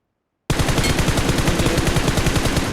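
Rapid automatic gunfire from a squad-based shooter game bursts in suddenly after a brief silence and continues as a loud, steady, close stream of shots with no talking.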